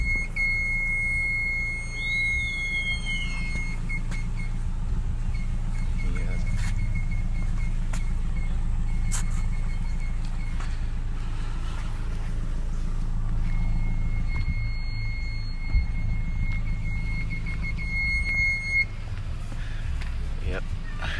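A reverse parking sensor on a 2013 Toyota Camry SE chirps in short repeated beeps, first near the start and again in a run later, over a low idling engine hum and faint background noise.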